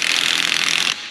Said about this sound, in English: This snap-on impact's kind of weak.